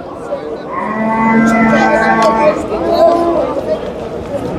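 A large, big-boned cow gives one long, loud, drawn-out moo that rises and then fades, with people talking nearby in the background.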